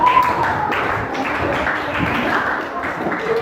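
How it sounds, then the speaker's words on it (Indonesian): Students in a school classroom clap for their classmates, giving a steady stretch of scattered group applause while a voice talks over it. "Give applause to your friends."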